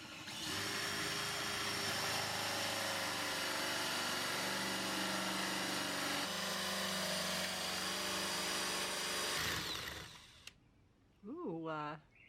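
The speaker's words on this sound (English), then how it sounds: "We're gonna start drilling some holes into the front of these drawer fronts" A power drill boring holes into wooden drawer fronts for a craft storage cabinet runs as a loud, steady whine for about ten seconds, then cuts out before a brief voice.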